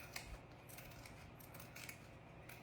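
Scissors snip felt garland pieces in quick, close, quiet cuts, several crisp clicks spread over a couple of seconds with no talking.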